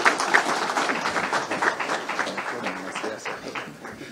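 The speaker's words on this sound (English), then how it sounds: "I will request you to stand up and clap for him" An audience at a formal event stands and claps, a dense sustained applause that slowly fades, with faint voices mixed in.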